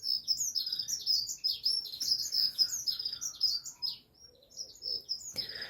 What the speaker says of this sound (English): There's a very noisy bird sitting in the tree out there looking at me.